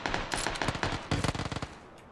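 Rapid bursts of Micro UZI submachine gunfire in PUBG, loud, close and dense, with rattling clusters of shots packed into quick volleys and a short pause between two main bursts.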